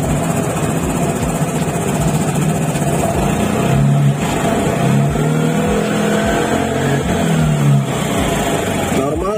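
A car engine is revved in repeated bursts during a charging-system check, a close, mid-pitched roar that rises and falls several times under ongoing conversation.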